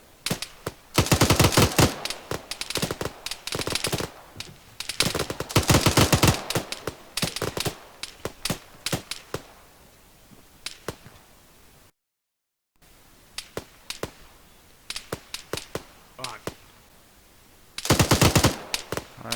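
Sustained gunfire in jungle combat training: loud, close bursts of rapid automatic shots in several long strings, split by short pauses and a brief silence, with no talking over them.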